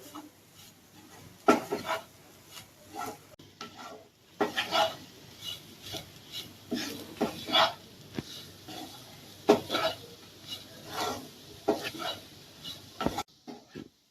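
A utensil scrapes and clanks around a pan while Chettinad mutton podimas is stirred, irregular knocks and scrapes in bursts over a low sizzle, close up, no talking.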